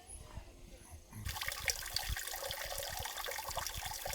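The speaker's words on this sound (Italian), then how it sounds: "ascolti il suono dell'acqua che scorre" Water starts flowing about a second in and keeps up a steady, full rushing splash to the end, with quieter faint background noise before it begins, at Suseonsa temple.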